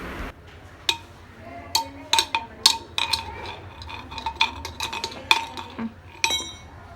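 A baby bangs and stirs a metal spoon inside a cooking pot, making a string of irregular, bright clinks and knocks close by, with quiet household background between the hits.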